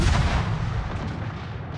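Naval artillery in a warship battle video game fires a heavy, booming salvo at an enemy warship, loud and close, with a rumbling tail that fades over about two seconds.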